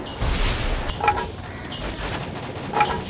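Bursts of MP gunfire in a shooter video game, a few quick crackling volleys over a busy background of game noise, moderately loud with short pops spaced across a few seconds.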